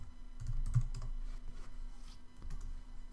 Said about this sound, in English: Typing is all over the place at the moment